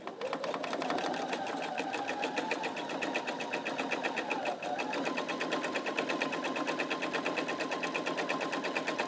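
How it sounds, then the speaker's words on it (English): A sewing machine runs steadily at close range, stitching a fabric Christmas tree napkin, its fast needle rhythm continuous for the whole stretch with a slight slowdown midway and no talking. "And I'm just going to slow down as I stitch over my tree trunk."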